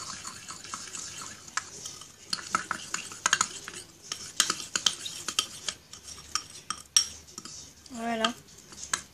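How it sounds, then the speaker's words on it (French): A spoon mixing hamster treat dough in a bowl, with repeated clinks and scrapes of cutlery against the dish in an uneven rhythm, close and fairly loud, no talking. "Et on va venir mélanger."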